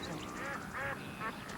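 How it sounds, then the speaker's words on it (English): Shelducks calling outdoors, a few short nasal quacking notes in quick succession over a steady background hum. "Shelduck and many other birds simply migrate when it gets too cold."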